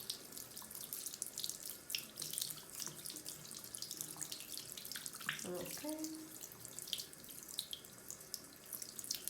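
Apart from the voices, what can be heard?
water running from a tap while washing a makeup brush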